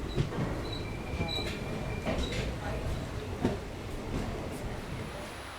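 Passenger train running from Chennai to Rameshwaram, a steady onboard rumble of wheels and carriages with faint squeals and clanks, heard close and continuous throughout.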